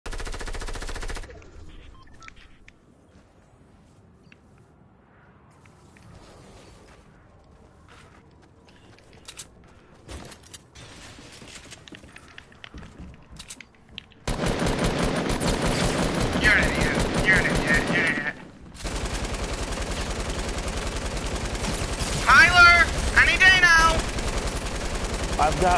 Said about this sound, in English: I'm getting shot at by both.